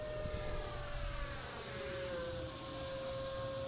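An E-Flite Viper 90mm electric ducted-fan RC jet plane flies past at sunset, giving a steady, loud whine with a slowly shifting pitch over a low rumble of wind.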